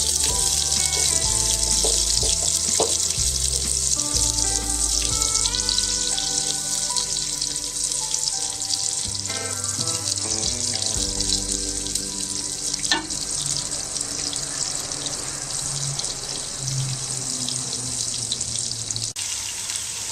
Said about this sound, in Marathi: आपलं तूप इथे आता तापलं आहे त्यामध्ये मी घालणारे मटार